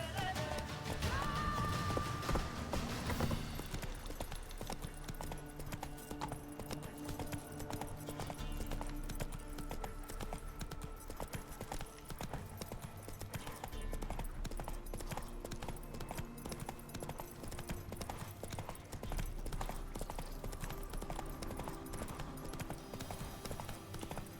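Horse hooves gallop steadily in The Witcher 3, a continuous rhythmic clip-clop under a layered game soundtrack, with a brief whinny near the start and a few spoken words.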